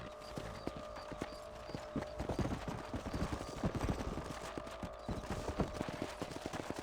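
Horse hooves in Red Dead Redemption while a rider patrols a ranch property, a steady rhythmic clip-clop of a trotting horse that stays fairly close and clear, with faint game ambience underneath.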